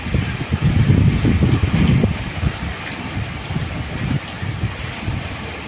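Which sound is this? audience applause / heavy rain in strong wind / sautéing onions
heavy rain in strong wind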